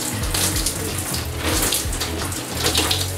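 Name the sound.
shower water running over hair while rinsing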